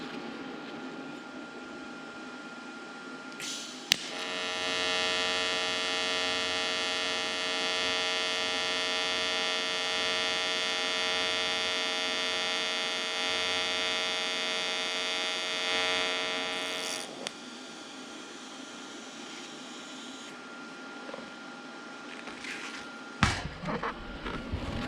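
YesWelder Firstess 2050 TIG welder running a test weld: a steady, loud electrical buzz with a bright, even hiss holds for about thirteen seconds, then cuts off, with a few clicks and clunks around the start and finish.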